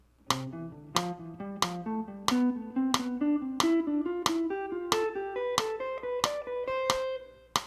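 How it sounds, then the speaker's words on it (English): A plucked guitar line of evenly spaced, bright notes, phrased in groups of three and slowly climbing in pitch, played alone and up close. "you'd play it in groups of threes, which would make it sound like triplets"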